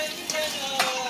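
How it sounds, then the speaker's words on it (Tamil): Ingredients for wheat rava upma sauté in a pan, a brief close sizzle with a couple of soft scrapes from a stirring spoon. "நல்லா வதக்கி விட"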